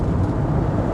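A car's engine roars hard at full throttle around 70 miles an hour, a dense, steady, close rumble heard from inside the cabin.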